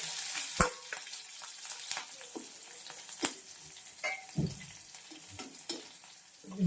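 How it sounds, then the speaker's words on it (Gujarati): Cumin, green chillies and curry leaves sizzle in hot oil for a tempering, giving a steady close crackle punctuated by sharp pops and light stirring clatter, without talk. "જીરું નાખ્યું અને મરચાં અને લીમડો"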